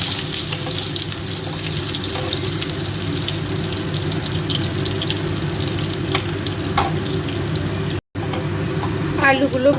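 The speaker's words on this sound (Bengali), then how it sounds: "মাছ ভাজার তেলের মধ্যে আমি আলুগুলো আগে ভেজে নেব।" Potatoes frying in oil previously used for frying fish, a continuous loud sizzle with occasional scraping and clinking from stirring throughout, no talk.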